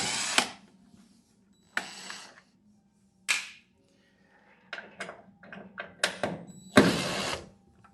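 Short bursts from a power tool backing screws out of a truck tail light, several quick whirring spurts separated by pauses, close and moderately loud with clicks between runs.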